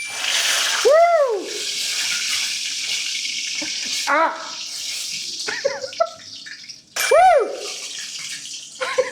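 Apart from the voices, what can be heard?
chicken frying in hot oil, splashing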